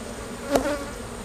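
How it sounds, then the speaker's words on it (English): Honey bees in a single brood box during a hive inspection make a steady close buzzing drone, with one bee swelling briefly louder as it passes near. "I'm looking at my bees."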